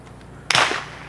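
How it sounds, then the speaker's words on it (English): A spring-loaded winger bird launcher at a retriever championship lets go with one sharp snapping release, a sudden loud burst that trails off into a brief whoosh over quiet outdoor background. "it comes out of a winger"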